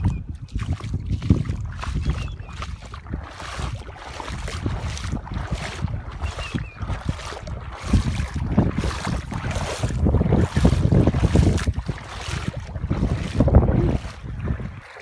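A vehicle fords the North Fork of the American River at Rattlesnake Bar, with continuous rushing, churning water and wind buffeting the microphone throughout, loud and close with no talking.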